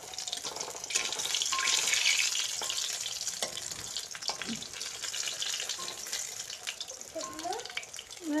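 Eggplant fritters (beguni) frying in hot oil give a continuous hiss and crackle, moderately close, while voices and a child's brief calls come in faintly toward the end.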